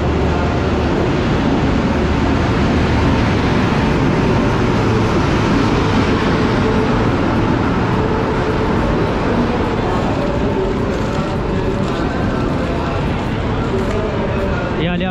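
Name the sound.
Tamil Nadu Express train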